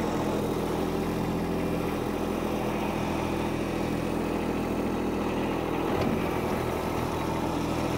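A stuck tractor's engine runs steadily under load while working to regain traction, a constant mid-to-low drone with a brief surge near the end, loud and close with no talk.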